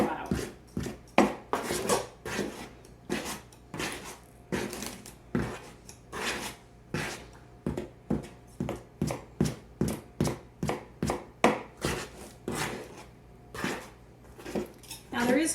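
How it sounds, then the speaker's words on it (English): Lard being cut into flour for a homemade pie crust, a rapid series of sharp tapping and scraping strokes repeating steadily throughout, close by, with a low background hum. "That's kind of what you're doing, is chopping it up into the flour."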